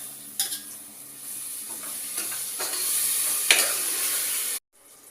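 Masala paste with chilli powder, salt, coriander powder, turmeric and curd sizzles steadily in a pan while a spoon scrapes and stirs it in a few soft strokes, the frying hiss cutting off abruptly near the end.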